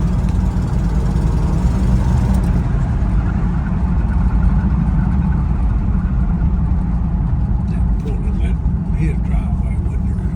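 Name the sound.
car engine running after carburetor repair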